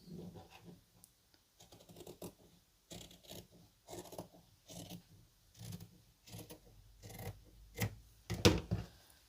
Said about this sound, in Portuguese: Agora eu vou cortar aqui, ó.